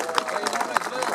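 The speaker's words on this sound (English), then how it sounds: "So, big round of applause for the police." A rally crowd at a Britain First event in Telford claps for the police in a steady, dense patter of applause with a babble of voices mixed in.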